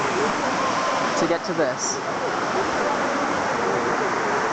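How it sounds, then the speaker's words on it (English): An Amazonian waterfall roars as a steady, close wash of rushing water, reached after a two-hour hike, while a person speaks briefly over the constant noise. "we're going into the waterfall"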